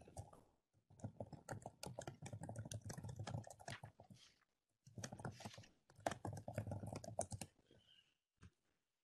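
Rapid clatter of typing on a computer keyboard during a university thesis and dissertation information session, in two dense bursts separated by a short pause, close and fairly quiet, with no talking.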